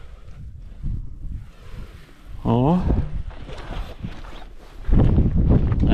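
Wind rumbles and gusts against the microphone on a sailboat in the South Shetland Islands, Antarctica, while people talk nearby, the low buffeting growing stronger toward the end.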